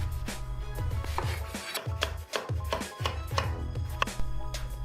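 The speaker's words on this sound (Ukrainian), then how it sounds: "Для цього нарізаємо баклажани ось такими кільцями" A knife slices eggplant into fairly thick rings on a board, giving a steady run of firm, close chops one after another with no talking.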